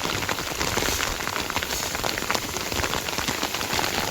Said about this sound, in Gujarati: બહુ વરસાદ હો ભાઈ